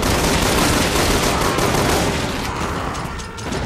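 Sustained rapid gunfire from Resident Evil 6, a loud, dense burst of shots running continuously and tapering slightly near the end, with no talk over it.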